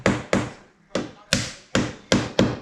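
A hammer knocking a timber splice into place for a repair, seven sharp, close wooden taps in a quick, slightly uneven rhythm.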